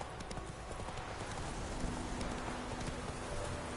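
Hooves of Roach, a horse in the video game The Witcher III, clip-clopping steadily at a walk over a dense, even background of ambient noise, with no talking.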